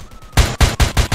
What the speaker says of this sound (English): I know he's trying to shoot at me